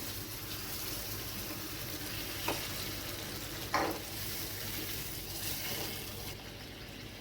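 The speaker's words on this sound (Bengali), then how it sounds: "এই মশলার বাটিতেই আমি এক বাটি জল নিয়েছি দিয়ে দিচ্ছি" Water is poured into a spice paste frying in a pan, producing a steady soft sizzle with a couple of brief splashy bursts, fairly quiet throughout.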